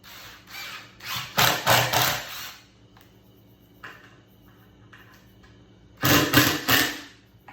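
Hammer blows tacking a 3/4 inch by 4.5 inch wooden board onto the back of a turkey fan mount, heard as a few loud bursts of knocking and clattering separated by quieter stretches, close by.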